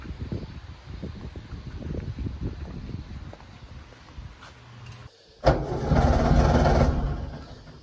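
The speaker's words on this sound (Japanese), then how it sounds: "なんかね、エンジン不調みたいです。エンジン不調。" A Subaru 360 prototype engine with a fault, running rough: an uneven, sputtering rumble with irregular bursts is followed by a brief drop-out and then a louder, steadier roar of revving, close up and with no talking.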